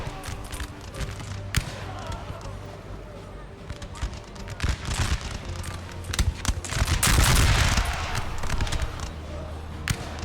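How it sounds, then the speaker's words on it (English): Polish artillery fires on Russian troops in a Napoleonic battle in Napoleon Total War, a dense, continuous crackle of gunfire and booms that swells into a heavier roar partway through. "Now we got Polska artillery."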